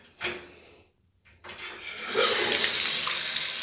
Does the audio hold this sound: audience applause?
no